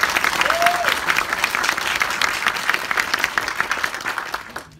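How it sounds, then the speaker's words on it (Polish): Cinema audience applauding at a film premiere screening, loud, dense clapping that fills the room and gradually thins before stopping abruptly at the end. "Ogromne brawa."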